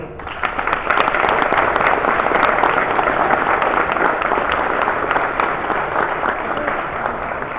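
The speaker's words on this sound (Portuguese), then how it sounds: "Um grande aplauso." A large audience in the Madalena auditorium on Pico island applauds at the Horta Football Association's 89th anniversary ceremony, with sustained, dense clapping that swells quickly and holds steady.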